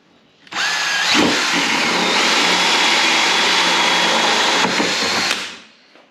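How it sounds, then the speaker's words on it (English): A power drill drilling a hole whirs loudly and steadily for about five seconds, then winds down, with no talking. "Okay, so I'll drill that hole."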